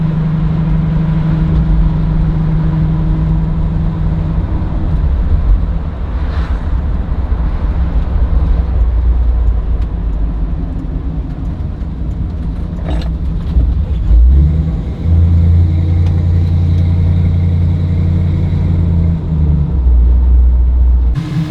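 A white 1965 Ford Mustang Fastback on a test drive, its engine giving a steady, loud low rumble throughout, with swells as it accelerates and drops back.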